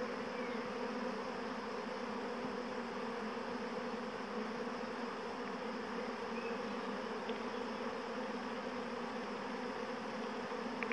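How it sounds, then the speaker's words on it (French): A honeybee swarm pours out of its hive in a dense, continuous buzzing drone, steady and loud for the whole stretch, with no voices. "les abeilles sortent de la ruche"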